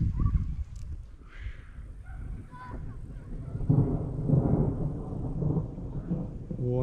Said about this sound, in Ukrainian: І вже шумить, гримить трохи.